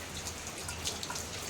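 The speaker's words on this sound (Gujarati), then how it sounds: "મસ્ત મજાનો વરસાદ આવે છે" Steady rain falls in a short, even wash of patter with scattered individual drops, fairly faint and without voices.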